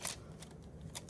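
Junk mail paper torn by hand for a grungy ripped edge, heard as two or three quick, close, crisp rips separated by brief pauses.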